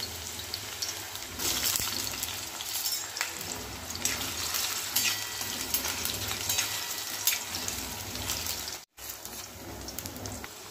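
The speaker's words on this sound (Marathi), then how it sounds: "याच्यामध्ये आता केळी आपण फ्राय करून घ्या" Raw banana slices sizzle steadily in a ladle of hot oil over medium-low heat, a dense crackling hiss with light stirring clatter and one brief dropout.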